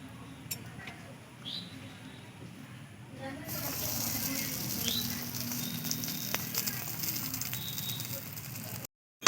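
An egg paratha fries in a pan, producing a faint, steady hiss with light crackling that grows a little louder partway through and then cuts off abruptly.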